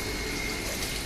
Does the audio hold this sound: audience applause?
no